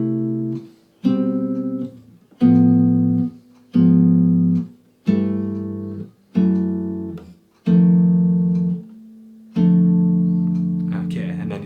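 A jazz guitar plays the last four bars of a song slowly, moving through a series of separate strummed chords, each ringing for about a second before being muted, and ending on a longer sustained chord, with no voices.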